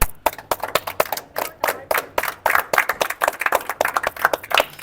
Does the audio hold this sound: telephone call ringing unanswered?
no